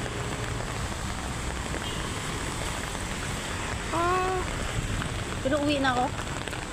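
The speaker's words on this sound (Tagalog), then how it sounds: "Umuulan pa, oh." Steady rain patters on a city street in an outdoor shopping district, a constant hiss in the background while a person speaks briefly.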